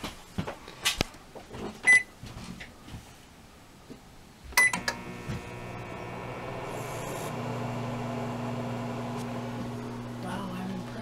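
An RV microwave powered through a 3000 watt pure sine inverter starts after a few clicks and door clunks, then hums steadily at a low level, with faint talk around it.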